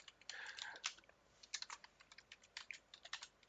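A name typed on a computer keyboard: quiet, close key clicks in irregular bursts with short pauses between runs, no talking.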